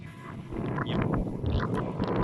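Steady wind buffets the microphone with a low rumbling roar, continuous and fairly loud for a couple of seconds, at an RC glider flying field.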